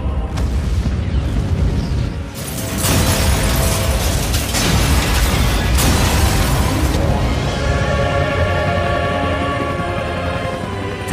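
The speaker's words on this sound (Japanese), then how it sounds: "連鎖爆発か。" A series of loud, booming chain explosions in the video game Resident Evil Revelations roll one after another, with crashing, shattering debris and a rumbling, sustained roar that slowly fades.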